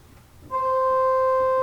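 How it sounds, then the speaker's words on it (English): After a brief quiet moment, a single pipe organ middle C on the 4-foot stop starts and holds steady and bright, a clean sustained tone with no voices. "Now here's middle C with the 4-foot."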